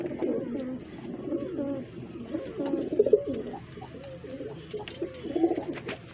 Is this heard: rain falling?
no